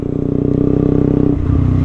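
A motorcycle engine runs steadily during a first A2 licence riding lesson, a loud close drone with a pulsing rumble that shifts slightly in pitch toward the end.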